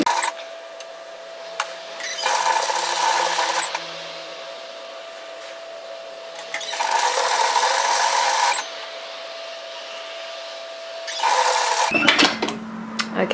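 Sewing machine running along the edge of a knit teddy jacket in three separate bursts of steady whirring, close and fairly loud, with quiet pauses between runs.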